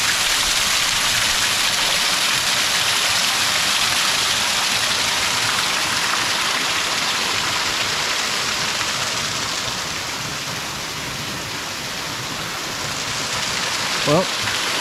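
Water trickles and splashes steadily at the base of a waterfall, a continuous hissing patter close by, ending with a short faint squeak.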